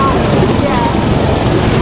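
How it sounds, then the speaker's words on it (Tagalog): Strong wind buffets the microphone in a constant roar, with a broad rushing hiss and no clear pauses. "Ang lakas ng hangin."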